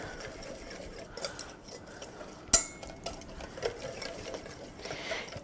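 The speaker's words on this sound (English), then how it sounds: "you will take a whisk and just whisk it together" A whisk stirs spices into a chicken marinade in a bowl, giving soft, quick rhythmic scraping and tapping against the bowl, with one sharper clink partway through; fairly quiet throughout.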